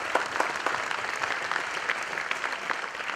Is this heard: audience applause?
yes